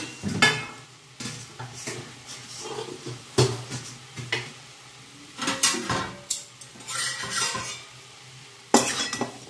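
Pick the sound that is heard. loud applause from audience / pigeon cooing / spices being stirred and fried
spices being stirred and fried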